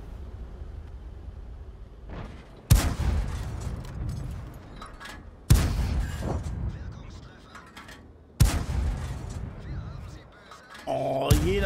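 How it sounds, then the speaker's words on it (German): Tank cannon shots in World of Tanks, fired from a T67 tank destroyer on the Erlenberg map: three sharp, loud booms spaced about three seconds apart, each with a decaying rumble over quieter battle ambience. "Gefühlt jeder zweite Schuss prallte ab."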